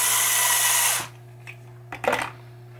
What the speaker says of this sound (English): We're going to take the electric screwdriver and just put them in partially.